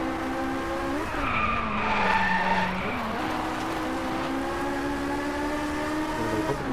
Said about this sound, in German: Ich werde weiter mal driften.